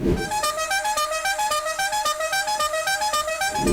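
A car horn with several emitters plays a simple repeating melody of loud, bright tones in quick pulses, heard alone and up close.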